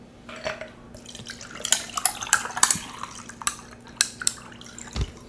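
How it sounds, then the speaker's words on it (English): A drink splashes and drips onto a table during a fajita meal, with close irregular liquid splatters and light clinks of dishes and cutlery. "Oh, it's spilling everywhere."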